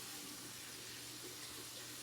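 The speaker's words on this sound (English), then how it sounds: "Just gonna run some water over that." Tap water runs steadily from a bathroom faucet over a cloth at a sink, a constant broadband hiss and splash with a low hum beneath, with no talk.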